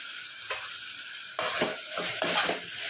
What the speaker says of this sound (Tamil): இப்போ அதையும் நல்லா அந்த தக்காளி வெங்காயத்தோடு நல்லா வந்து மிக்ஸ் பண்ணி விடணும்